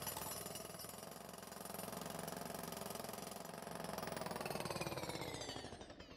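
A pneumatic hammer rattles continuously, a loud, rapid mechanical hammering that stays steady and fades slightly at the end, with no voices.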